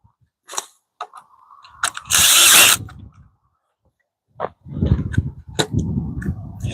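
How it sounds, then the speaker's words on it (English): A power drill whines in short bursts while drilling screw holes on a mini truck camper build, including a loud half-second burst, with clattering and handling noises between them nearby. "let me drill the next two holes, get those screws in"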